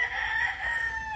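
A backyard broodcock rooster crows loudly and close by, one sustained strained call over faint background noise.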